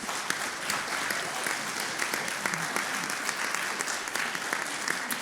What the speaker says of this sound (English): I think we need a bunch of applause for that.